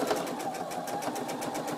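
Domestic sewing machine stitching slowly along a dish towel, a close, continuous mechanical whir with a fast even rhythmic pulse throughout, nothing else heard.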